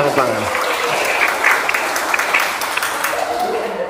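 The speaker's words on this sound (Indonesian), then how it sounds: "tepuk tangan." A classroom of students applauds a classmate's finished presentation, steady clapping filling the room for a few seconds, with a teacher's voice briefly heard at the start.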